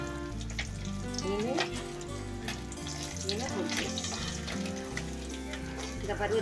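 Sardine pieces fry crisp in hot oil, Nagercoil style, with a continuous close sizzle and bubbling while a voice is heard faintly beneath.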